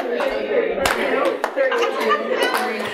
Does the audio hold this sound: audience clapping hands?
yes